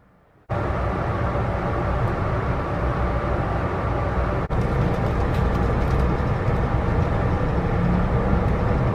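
Steady, loud rumble of a train in motion near Nagano, Japan, a continuous low roar with rattling, a brief dip midway, no voices.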